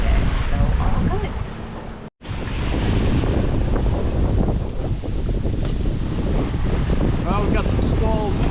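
Strong wind with squalls at sea aboard a sailboat crossing the Pacific. Steady loud roar and buffeting across the whole stretch, with a brief dropout partway through.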